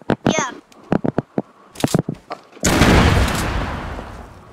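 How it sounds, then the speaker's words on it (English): Gunfire in a shooting video game: a quick run of sharp, close shots, then a heavy blast that fades out, with people talking over it. "Who's shooting?"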